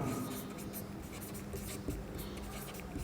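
Pen or chalk scratching steadily during a Hindi-language biology lesson, a continuous dry writing sound with room noise, no voice heard over it.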